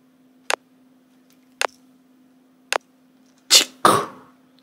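Layered snare-clap percussion sample built from a plastic cup, three short dry crisp hits spaced about a second apart followed by two louder, fuller clap bursts close together, heard alone over a faint steady hum.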